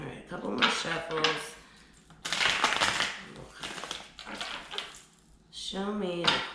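Tarot cards are shuffled in quick riffling bursts, with a voice speaking briefly at the end.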